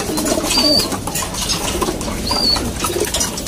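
Pigeons coo close by, with two or three soft, rolling calls spaced over a few seconds against a light background murmur.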